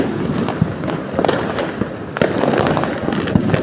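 Diwali firecrackers burst in a rapid, irregular crackle, a dense series of sharp pops with a few louder bangs standing out, in Kolathur, Chennai.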